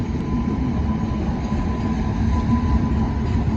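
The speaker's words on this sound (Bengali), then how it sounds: "একসঙ্গে দুটো ট্রেন যাচ্ছে, দেখতে পাচ্ছ?" Two trains pass at once on the railway, a loud, unbroken close-up rumble of wheels and wagons with a low heavy drone throughout.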